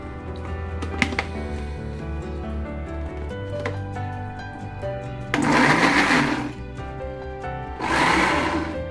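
A blender whirs loudly in two short bursts, about a second or more each, mixing Oreo cream cheese cake mixture over steady background music.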